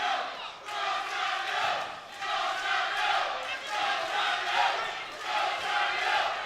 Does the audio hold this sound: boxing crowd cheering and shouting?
yes